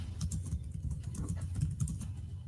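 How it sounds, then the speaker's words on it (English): Quick, irregular clicking of keys on a computer keyboard, soft and close, with no voices. "I'm just typing something in here real quick"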